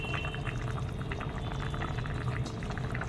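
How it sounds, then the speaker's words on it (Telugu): Thick chana dal curry bubbles and simmers close by in a pot, with a steady crackling sizzle and soft popping bursts throughout. "మూత పెట్టేసుకుని నీళ్ళు వినికిపోయేదాకా ఉడికించుకుందాం."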